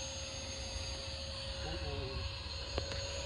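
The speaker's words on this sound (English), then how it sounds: "It's a really good flying airplane" A Freewing F-22 64mm EDF radio-controlled jet flies with a steady whining ducted-fan hiss and a thin tonal whistle, heard from a distance.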